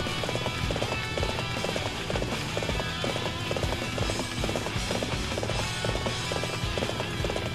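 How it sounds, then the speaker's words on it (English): Galloping horse in the video game Dynasty Warriors 7, with quick, rhythmic hoofbeats clattering steadily throughout over a dense game soundtrack. "I think he's on a horse because he's moving quite fast"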